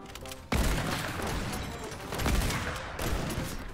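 Sniper gunfire in a shooting video game, with sharp booming shots that open a dense, sustained rumble and continue in repeated loud bursts.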